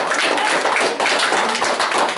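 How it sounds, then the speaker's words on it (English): An audience at a school DARE graduation ceremony applauds Miss Perry, producing a dense, steady wash of many hands clapping close and loud, sustained without a break and with no voices over it. "can we give Miss Perry a nice round of applause for the great work?"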